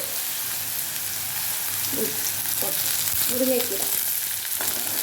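Onion tipped into hot oil with spluttering mustard seeds gives a steady close sizzle and crackle, with a brief burst of frying as it lands and faint scraping of a spoon, no talking.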